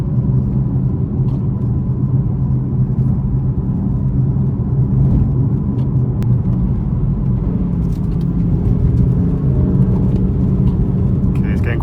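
A 500 hp BMW M4 driven fast along a winding back road, its engine a steady loud rumble from inside the cabin, with no pause for the whole stretch and light road noise over it.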